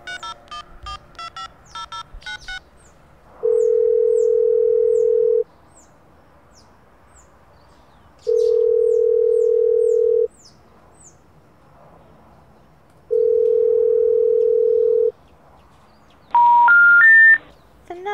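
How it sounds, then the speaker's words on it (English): A phone in The Sims 4 video game sounds three long, steady tones separated by pauses, then a quick run of rising dialing beeps at the end, with faint chirps in the background. "She unlocked the phone and dialed her mom."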